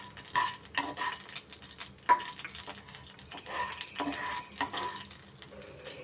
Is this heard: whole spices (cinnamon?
yes